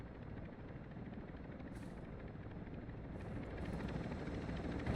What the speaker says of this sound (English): So we have helicopter coming in.